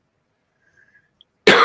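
A single loud, harsh cough bursts out near the end after near silence, with only faint background sounds before it.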